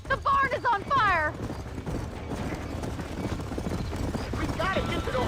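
Galloping horse hooves clatter steadily in Red Dead Redemption near a burning barn, with a horse whinny and shouted voices over the top at the start.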